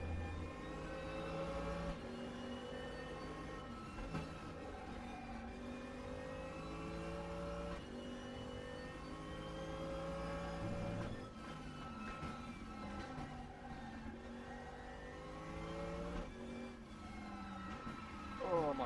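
A racing engine in the RaceRoom game drones steadily through a lap, pitch climbing and dropping with shifts. It stays loud and close, with only faint background sound beneath.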